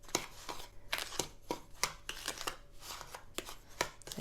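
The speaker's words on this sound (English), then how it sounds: "And then give it a little mix again with a spoon." A spoon mixes the dry ingredients for a banana cake, including cinnamon, in a bowl, with soft, close scraping and tapping strokes at an uneven pace.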